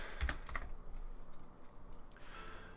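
Quick bursts of typing on a computer keyboard, soft clicky keystrokes clustered at the start and then trailing off into a few scattered taps over a quiet hum.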